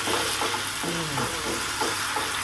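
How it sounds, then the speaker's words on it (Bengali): Fried potatoes are stirred into a sizzling prawn curry masala in a hot pan, a continuous close hiss broken by scraping strokes of a spatula, with no talk. "এবার ভাজা আলুটা দিয়ে আমি ভালো করে একটু নেড়ে চেড়ে দেব"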